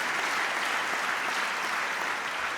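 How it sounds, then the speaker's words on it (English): Dense audience applause during a Basketball Hall of Fame enshrinement speech, a loud, continuous wash of many hands clapping at once, sustained evenly without pause. "big clap there, please"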